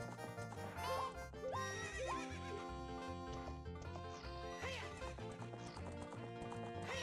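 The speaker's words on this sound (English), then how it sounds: "That horse is in the way." Horses galloping and neighing in the Zelda Ocarina of Time horse race, with repeated whinnies and hoof rhythm mixed into a busy, loud game music track.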